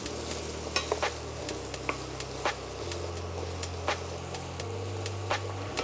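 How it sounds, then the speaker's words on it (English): Sliced apples go into melted butter in a wok and are tossed, giving soft sizzling with scattered clacks and scrapes as the fruit shifts against the pan. A low steady hum runs underneath, and no one speaks. "Now we're gonna whack all these apples in. We're gonna give them a little toss to coat in the butter."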